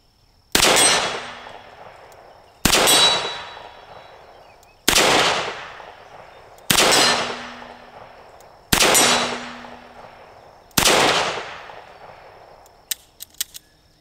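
Six sharp, loud shots from an EAA Windicator .357 Magnum revolver firing 158-grain rounds outdoors, spaced about two seconds apart, each with a brief ringing tail, followed by a few faint clicks.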